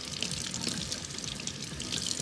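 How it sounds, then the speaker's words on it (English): Water gushes through a guinea pig water bottle being cleaned, a steady, soft hiss and splash that runs on without a break, fairly quiet and with no talk. "Hold your finger on that and let the water gush right through it."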